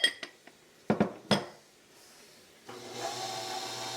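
Dishes being washed in a farmhouse kitchen: sharp clatters of pots and cutlery knocking together in several quick bursts, then running water and rubbing, close by with no talk.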